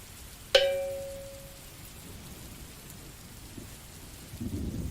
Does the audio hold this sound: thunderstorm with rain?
yes